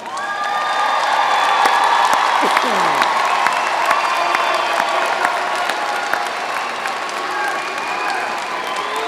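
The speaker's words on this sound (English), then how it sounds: "you give them a round of applause right now" Graduates at a Walden University commencement ceremony applaud with a loud, sustained roar of clapping and scattered cheers and whoops, continuing evenly for about nine seconds, with crowd voices mixed in.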